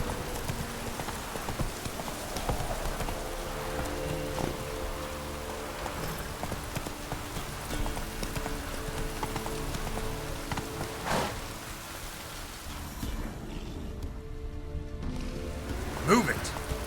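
Hooves of the horse Roach clip-clop in a steady trotting rhythm through The Witcher video game, moderately loud and continuous, with a rain-like wash in the background.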